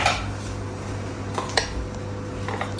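Potato vadas flipped in an appe pan cooked without oil, a few light metal clinks and scrapes of a utensil against the pan over a steady low background.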